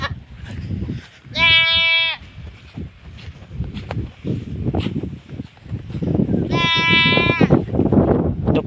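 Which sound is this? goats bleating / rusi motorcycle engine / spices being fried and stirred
goats bleating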